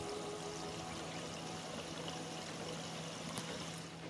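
Water flowing steadily in a faint, continuous pouring rush, low in level with a faint hum running beneath it and no voices.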